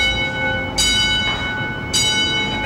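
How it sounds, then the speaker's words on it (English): A fire station's alarm bell rings in two loud, bright bursts about a second apart, sounding over a steady tonal hum, calling the crew out to a rescue. "That's our bell. Someone needs rescuing!"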